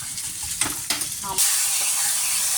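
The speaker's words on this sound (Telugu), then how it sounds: "ఇంకా కొంచెం ఫ్రై చేయాలి, చేశాక పోపులో కలిపేయడం." Curry leaves frying in a hot tempering for Tamil Nadu sambar, a few sharp spatters and crackles giving way to a loud, steady hiss of oil sizzling close by.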